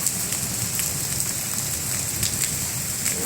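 Steady rain falls outdoors in Khanpur, a dense, even hiss of drops pattering on surfaces throughout, with no voices.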